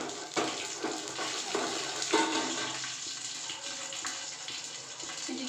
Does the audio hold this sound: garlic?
yes